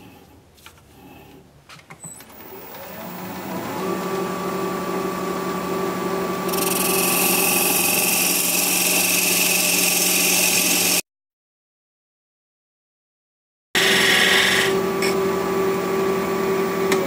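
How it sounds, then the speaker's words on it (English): A wood lathe spins a ginkgo spindle while a parting tool cuts it to length: a steady motor hum with tonal whine, then a louder rasping hiss as the tool bites, a short silent break, and the cut resuming. "I'll cut it off to the right length. And for that, I will return to the parting tool."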